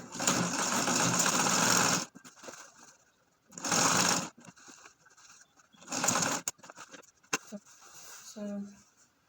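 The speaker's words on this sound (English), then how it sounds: "And then you sew." A sewing machine stitches fabric for an iro and buba outfit in three short bursts of rapid whirring, close by, separated by pauses with soft handling noises and a voice talking.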